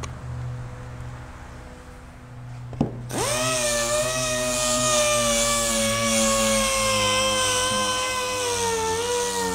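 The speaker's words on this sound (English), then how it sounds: "the trick is to keep the sander moving" Power sander distressing a wooden media center, starting abruptly after a quiet stretch of background hum and then running loud and steady close by.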